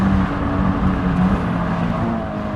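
A Subaru BRZ with traction control off and revs held high accelerates hard on a short, tight track, a loud continuous engine drone filling the whole moment with no pauses.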